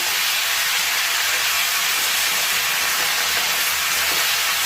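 Chopped ripe tomatoes sautéing in a pan for a roadside-style chutney give off a continuous, even hiss of steam and sizzle, close and unbroken.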